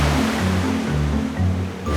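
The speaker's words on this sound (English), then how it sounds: "the sound the water made when we were on the beach" Continuous rushing surf on a beach with a steady roar of breaking ocean waves, washing in and out in broad swells, with a low pulsing rumble underneath.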